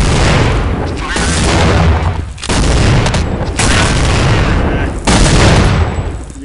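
Loud, dense gunfire from Counter-Strike: Condition Zero, with heavy booming sniper rifle shots in several bursts roughly a second apart that fill the whole stretch with little pause.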